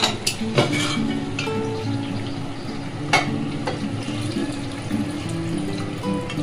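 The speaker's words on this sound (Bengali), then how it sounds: "মাংসের যে স্টকটা রয়েছে সেটা আমি এবার দিয়ে দেবো" Meat stock poured into a pot of fried potatoes during cooking of Bengali-style mutton kosha, a close bubbling sizzle and liquid splashing with a few sharp clinks of utensil, no voices.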